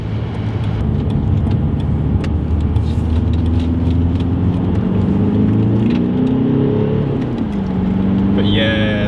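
Audi A4 TDI diesel car driving after its EGR valve was removed, a steady engine drone with gear-change pitch shifts heard from inside the cabin, with a voice speaking over it.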